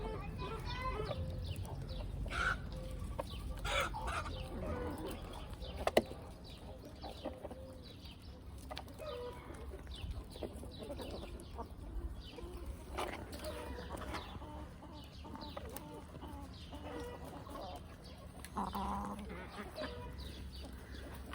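Chickens cluck and chatter steadily close by, with occasional louder squawks over a constant low background hum.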